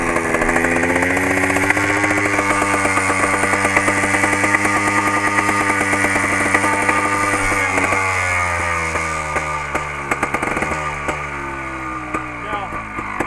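A Beta trials motorcycle engine runs just off choke, a loud, close, steady buzzing idle with a rapid firing rhythm and small shifts in pitch, heard throughout without pause.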